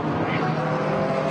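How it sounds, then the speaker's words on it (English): GT4 race cars, a BMW, a McLaren and a KTM, passing at the Nurburgring during a GT4 European Series race, a loud steady engine roar with a commentator talking over it. "There they come. 110 BMW, the 10 McLaren and the 22 KTM."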